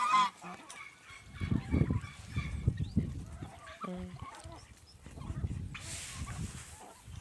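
Several domestic geese honk repeatedly at close range outdoors in western Ukraine, loud nasal calls coming in irregular bursts over faint outdoor background noise.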